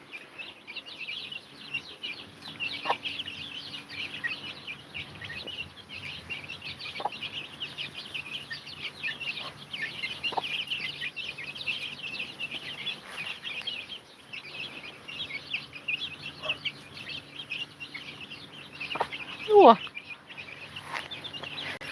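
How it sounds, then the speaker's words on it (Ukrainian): Soft, scattered clucking from chickens runs through the clip over a steady outdoor background, with a brief exclamation from a person near the end. "Маленьке курчатко"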